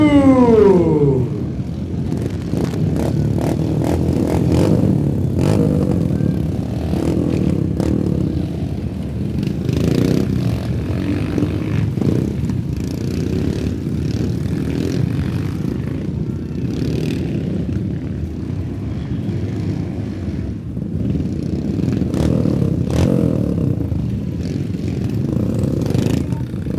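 Motorcycles in a race roar past at the Royal Enfield Rider Mania event, a loud continuous engine drone that rises and swells for the whole stretch with no pauses and no voices.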